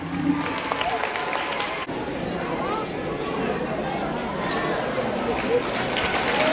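Applause from an audience at a school assembly as the head boy and head girl come up onto the stage, a moderate wash of clapping mixed with crowd chatter and movement, heard from a middle distance.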